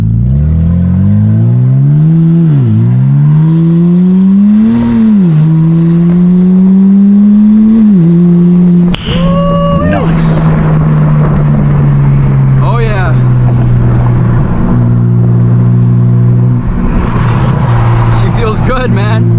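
A turbocharged car pulls away on a wet road with cold tires, its engine loud and close from inside the cabin, revving up in rising sweeps through several gear changes before settling into a steady drone.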